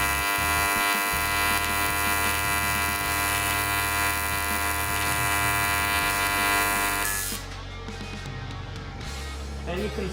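Arc welding on aluminum with filler rod produces a steady electric buzz and hum that holds for about seven seconds, then cuts out, leaving quieter shop sounds.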